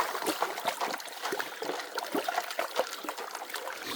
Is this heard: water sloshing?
yes